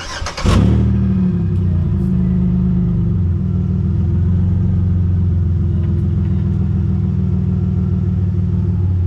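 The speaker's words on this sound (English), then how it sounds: "This is what the exhaust sounded like." A Chevrolet Impala's exhaust rumbles loudly after a sharp revving start, settling into a steady deep idle that holds for the rest of the stretch with no talk.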